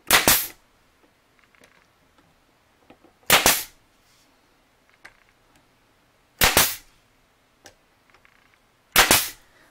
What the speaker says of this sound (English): let me get the nail brad gun and let's go ahead and nail some nails into this